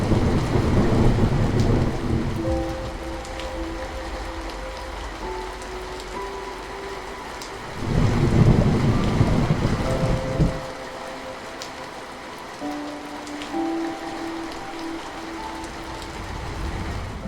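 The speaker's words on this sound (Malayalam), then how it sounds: "കഴിഞ്ഞ 75 വർഷത്തിനിടെ UAE കണ്ട ഏറ്റവും ശക്തമായ പേമാരി." A heavy rainstorm in the UAE roars as a dense, continuous wash of rain, swelling into two louder rumbling bursts of thunder, with faint tonal sounds drifting above it.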